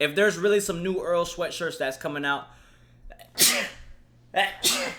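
Someone talks briefly, then two sharp, loud sneezes burst out close to the mic, about a second apart.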